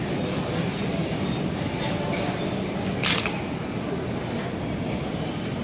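Busy ambience at Delhi railway station, a dense steady rumble of trains and crowd noise with a couple of brief sharp clanks.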